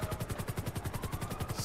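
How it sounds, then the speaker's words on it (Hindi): A helicopter in GTA V gameplay beats with fast, even rotor thumps, steady and moderately faint throughout. "हेलीकॉप्टर है यार आवाज खाली आ रही है"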